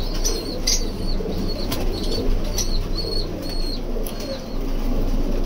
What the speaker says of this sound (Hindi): ये देखिए एक फीमेल कबूतर दाना दे रही है, मेल कबूतर दाना दे रहे